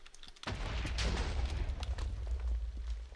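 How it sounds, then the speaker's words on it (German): Explosion in the Minecraft Expansion Ultimate modpack, a sudden loud boom after a brief quiet start, followed by a sustained low rumble and crackle that lingers for several seconds. "Dankeschön für die Explosion."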